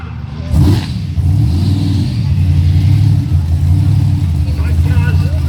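Demolition derby cars at the Boonah Show rumble and rev as they drive head to head, a loud, steady engine roar under crowd noise and an announcer's commentary.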